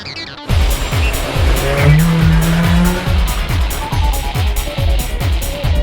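A Nissan Micra hatchback's engine revving hard as it accelerates, with tires squealing partway through, loud and close.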